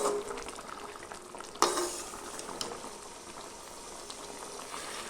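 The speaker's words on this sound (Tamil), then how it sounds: "இந்த மசாலாலாம் நல்லா முருங்கைக்காயில் பிடிச்சி நல்லா வெந்துக்கிட்டு இருக்கு" A pot of drumsticks in masala bubbling and simmering steadily up close, with soft popping and a gentle hiss throughout and one brief clatter early on.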